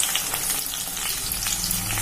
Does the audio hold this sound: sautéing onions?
yes